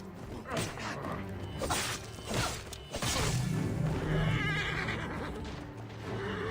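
A horse neighs loudly in several bursts in the video game Assassin's Creed: Origins, with whooshing and mechanical clanks around it.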